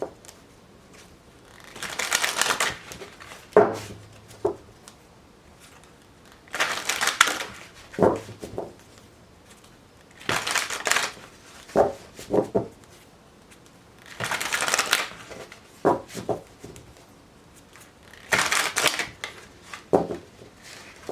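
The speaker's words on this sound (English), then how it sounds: "one more shuffle here for Gemini" Repeated bursts of tarot cards being shuffled, five riffling flurries spaced a few seconds apart with small taps between, close and fairly quiet, no talking.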